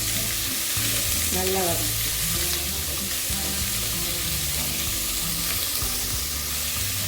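Onions sauté in a little oil in a pan for tomato kuzhambu, a continuous close frying sizzle with a few soft stirring knocks, while a voice speaks briefly.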